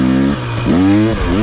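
A 2023 KTM 250 XC dirt bike engine revs loudly and close, rising and falling in a few sharp throttle blips on a trail ride.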